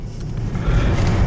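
A truck dumps a load, heard as a short, loud, rumbling low-frequency burst that swells toward the end.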